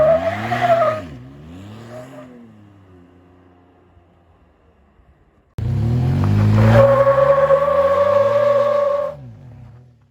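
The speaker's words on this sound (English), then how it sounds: "Let's see if we can burn some rubber." A Chevrolet Colorado ZR2 pickup fitted with new 4.56 gears revs hard, then squeals its tires in a long, loud burnout that falls away at the end, with no talking.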